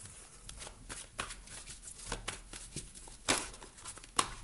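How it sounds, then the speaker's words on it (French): Tarot cards shuffled by hand in a quiet room, with a run of soft riffling and slapping bursts and a couple of sharper snaps near the end, with no talking. "je remélange le jeu"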